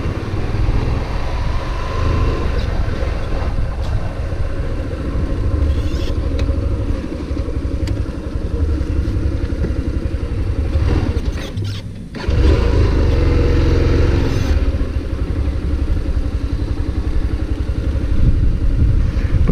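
A motorcycle engine runs steadily and loudly up close, holding a constant rumble with a brief dip partway through before resuming.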